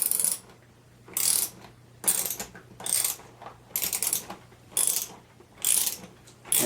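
A ratchet tightens a bolt that pulls a bushing into a Cessna torque link, sounding as six or seven bursts of rapid metallic clicking separated by short pauses, close up and with no talking.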